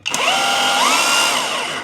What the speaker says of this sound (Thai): โหมดแรกก็คือ โหมดเจาะเฉยๆนะ ตัวนี้ไม่ได้กระแทกนะครับ